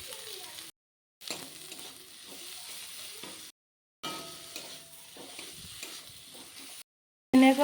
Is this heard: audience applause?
no